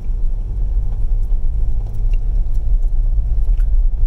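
A Jeep four-wheel drive crawls along an off-road track near Cape Portland, its engine giving a loud, steady low rumble with faint rattles and knocks over the top.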